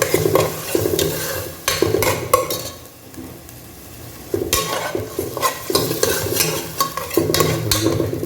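Onions or spices sauté in a pan for Ambur mutton biryani, before garlic paste goes in: close, loud sizzling broken by repeated scraping stirs of a utensil against the pan.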